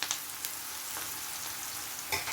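Eggs frying in a pan with turmeric stirred in, a steady close sizzle with scraping stir strokes at about 0.1, 0.45, 1.0 and 2.1 seconds.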